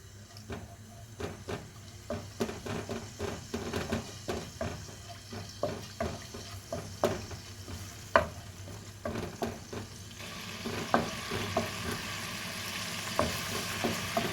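Garlic and ginger paste fries in a pan with a continuous soft sizzle, broken by regular clinks and scrapes of stirring, close and fairly quiet with no talking.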